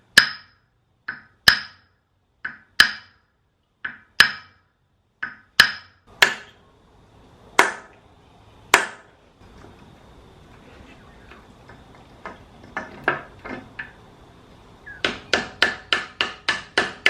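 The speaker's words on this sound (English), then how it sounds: "You can get a little punch and find the split and hit on that, and sometimes that'll pop them out" A hammer strikes a punch against swivel hub bearings from an HJ47 Land Cruiser, a dozen sharp metallic taps at a steady pace, then a short pause with scraping before a faster burst of close, loud blows.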